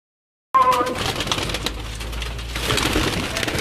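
Pigeons coo on a rooftop where breeding pairs and young birds are released, a soft steady murmur of calls rising after a short silent start and continuing without talk.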